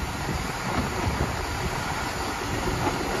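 West Midlands Railway class 172 diesel train at Stratford-upon-Avon, a steady broadband rumble and rush close by, with no talking.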